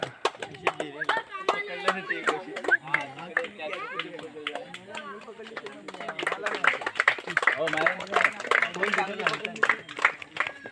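At a cricket award ceremony, a crowd claps for a player in a quick burst of close hand claps, then scattered clapping continues under someone talking loudly over a speaker.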